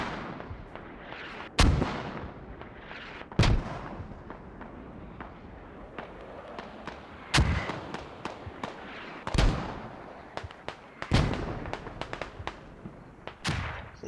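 Mortar rounds in a military shooter video game, a series of sharp, heavy blasts spaced a couple of seconds apart with scattered smaller cracks and distant gunfire between them.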